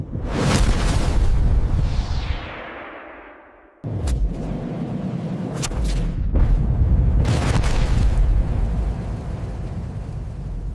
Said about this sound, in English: Breaking the sound barrier within the enclosed tunnel.